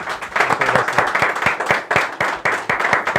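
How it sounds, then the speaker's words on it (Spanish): An audience at an author's book event claps loudly and close by, with distinct, crisp hand claps in a brisk, slightly uneven rhythm that carries on steadily without speech. "Un aplauso grande para Félix."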